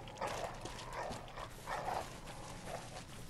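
A Doberman-like dog in the video game Bloodborne: The Old Hunters gives several short, muffled barks and yelps spaced about a second apart over a low background rumble.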